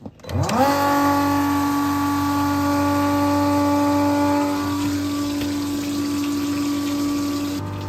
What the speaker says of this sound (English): So anyway, back to the pumping.